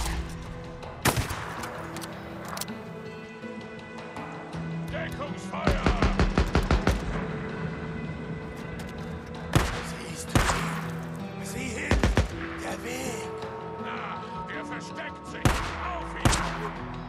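Sniper rifle fire in the video game Days Gone: sharp, loud shots spaced irregularly, some in quick rapid bursts of several cracks, over steady game background noise.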